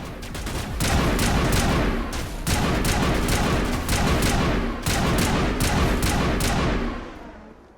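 Sustained rapid gunfire from a weapon in the video game Mass Effect, loud and continuous in several long bursts separated by brief pauses, with sharp cracks over a dense rumbling roar.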